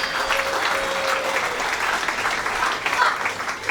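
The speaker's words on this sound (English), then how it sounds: "Please a round of applause for him for travelling from overseas." Audience applause at a Knights of Malta investiture ceremony, steady sustained clapping from a seated crowd throughout, fairly close and even in loudness.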